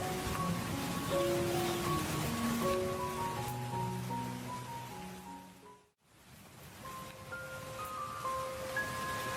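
Heavy rain hisses steadily through a storm scene in a Bengali cartoon, playing under soft melodic music. It drops out briefly near the middle and then returns.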